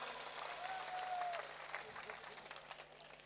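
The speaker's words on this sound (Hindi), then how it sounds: "बंसी जी देवासी वास्ते जोरदार तालियां बजाओ भाई" A crowd at an RLP election rally for the Khinvsar assembly by-poll breaks into applause, a steady wash of clapping that holds evenly, fairly distant, throughout.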